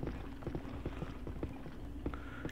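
Horse hooves clip-clop in a steady, fairly quick rhythm in the Ghostbusters video game, heard faintly and alone against a dense background.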